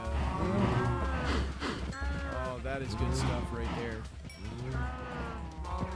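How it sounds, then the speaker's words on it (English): Cattle in a farming video game moo loudly and repeatedly in long overlapping calls from a large herd, with someone speaking briefly over them. "That's a lot of cattle."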